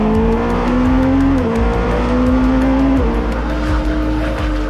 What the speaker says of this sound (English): it's a turbocharged engine, it's a twin turbocharged concept